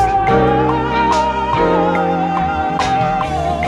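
A warm, slightly hazy beat processed with the RC20 vintage effect plugin plays with mellow chords and soft drums, its tone colored and muffled like an old recording, steady throughout.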